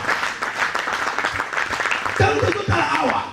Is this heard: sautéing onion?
no